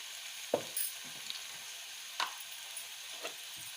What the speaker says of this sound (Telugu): కొంచెం పసుపు ఇది ఒక్క నిమిషం ఫ్రై కానివ్వాలి